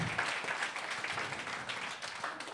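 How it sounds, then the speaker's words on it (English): A comedy special crowd applauding and cheering for themselves and the night's performers, a dense, steady wash of many hands clapping throughout, moderately loud and filling the room. "Clap it up for yourselves and everybody that y'all seen tonight"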